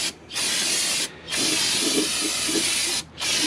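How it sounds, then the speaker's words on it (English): Brake cleaner sprayed from an aerosol can onto a Mazda RX-7 FC rear subframe in a garage: three loud, steady hissing bursts separated by brief pauses, close to the microphone with no talking. "I'm just gonna brake clean it"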